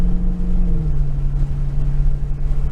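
A Dodge Challenger Widebody on a racetrack gives a loud, close, steady engine drone with a deep low rumble that holds its pitch, heard from inside the car.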